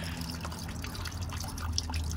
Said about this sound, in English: everything coming out of the radiator is just the clear distilled water at this point